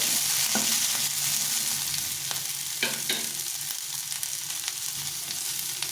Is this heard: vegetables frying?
yes